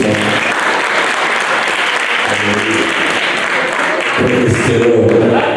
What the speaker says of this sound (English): Women in the house, who will clap for the pastor this morning?